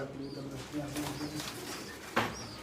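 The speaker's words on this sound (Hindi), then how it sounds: "कमंगर कबूतर।" Kamangar pigeons, a Lahore breed in a breeding setup, coo low and soft at close range, mixed with a few faint chirps and occasional talk.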